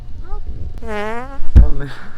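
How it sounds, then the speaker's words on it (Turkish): A short, loud fart bursts out near the end amid a Turkish horror-comedy gaming session, preceded by a brief stretched vocal sound and low background noise. "Pırt yaptı. Osurdu bu."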